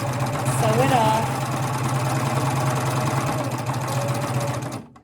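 A sewing machine running steadily with a binding attachment, sewing off the end of the binding, a continuous mid-pitched motor hum and needle chatter lasting almost the whole time before cutting off abruptly, with a voice speaking over it.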